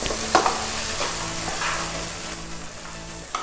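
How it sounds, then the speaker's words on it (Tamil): Fried idli pieces are tossed and stirred into chilli sauce in a hot pan, a soft continuous sizzle with a few sharp spatula scrapes and knocks, close-up and without voices. "சாஸ் எல்லாமே உள்ளே இறங்குற அளவுக்கு இதை கிளறி விட்டுக்கலாம்."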